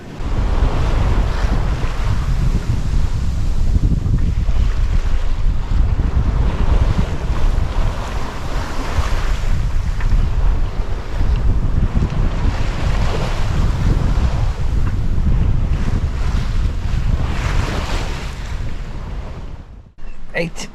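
Aboard a sailing boat running before a steady 20-knot wind, a constant roar of wind buffeting the microphone mixes with rushing waves and hull splash, loud and unbroken for the whole stretch.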